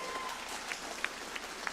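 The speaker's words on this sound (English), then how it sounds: "Give the band a big round of applause." Audience at a live comedy-variety show applauding the band, a steady wash of clapping at moderate distance with a few sharper claps standing out.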